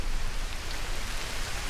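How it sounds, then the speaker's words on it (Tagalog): Steady rain falls at a lakeside campsite in Cavinti, Laguna, a continuous even hiss of drops hitting surfaces, close and moderately loud, with no voices. "Camping na maulan."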